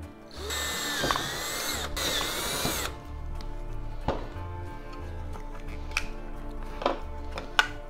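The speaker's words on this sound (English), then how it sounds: "I'm going to go ahead and drill my holes for the mounting screws here" A power drill whirs in two sustained bursts drilling mounting holes for custom VW Beetle turn signals, then quieter motor hum with clicks and small knocks as work continues nearby.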